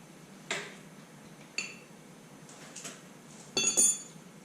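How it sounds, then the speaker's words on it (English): Top bolts are tightened on a Bandit SG40 stump grinder, giving a few sharp, quiet metallic clicks and clinks at irregular intervals, with a short cluster near the end. "Tighten the top bolts back up."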